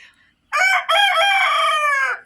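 Escaped backyard chickens, with one bird giving a loud, close, drawn-out vocal call made of two bursts in quick succession, heard alone without talk.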